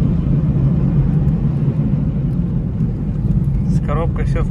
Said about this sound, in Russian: Газ в пол. Тяга слабоватенькая. Коробка переключила. Еще раз переключила.